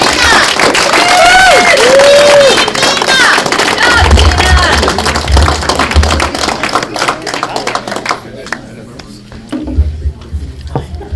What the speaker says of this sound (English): Another round of applause for Gina Stitzer.